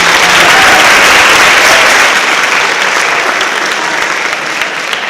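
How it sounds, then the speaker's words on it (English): Sustained applause from an audience at a high school senior awards night, a loud, dense wash of clapping that holds steady and then eases slightly toward the end, with no voices over it. "I think you deserve a round of applause for all of that"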